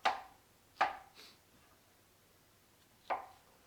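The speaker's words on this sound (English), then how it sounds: "Go through. Chop them up." Canned black olives being chopped with a knife on a cutting board: three crisp, separate chops, the first two close together and the third after a pause, near and clear in an otherwise quiet room.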